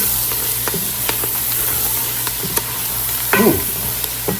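Chopped bell pepper, jalapeno and celery stirred into a sizzling onion mixture in a hot pan for gumbo greens, a steady loud frying hiss with several sharp scrapes and clacks of the spoon, and no voices.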